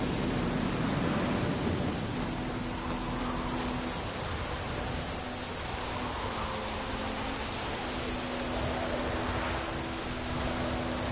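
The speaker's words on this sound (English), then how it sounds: "Let it rain." Rain falling in The Witcher video game, a steady broad hiss of downpour lasting the whole stretch, with faint low tones humming beneath it.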